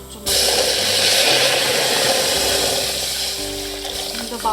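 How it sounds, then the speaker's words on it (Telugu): Water pours into a pot of barley before boiling. A continuous, fairly loud splashing rush starts abruptly and runs the whole time, with a faint mechanical hum underneath. "దీంతో బాగా వాటర్ వేసేసుకొని బాగా మరిగించేసుకోవాలన్నమాట"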